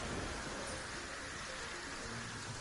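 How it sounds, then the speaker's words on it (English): Rain falling in the game Terraria, a constant dense hiss of downpour with a low rumbling undertone, even and unbroken from start to finish. "Raining outside."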